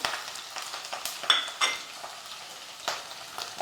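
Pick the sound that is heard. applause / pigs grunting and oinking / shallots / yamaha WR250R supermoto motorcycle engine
shallots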